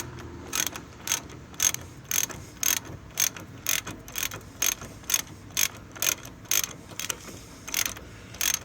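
A ratchet wrench tightens a large bolt to torque on a Nissan Murano, giving a quick, evenly spaced series of about sixteen sharp ratcheting clicks, close and fairly loud.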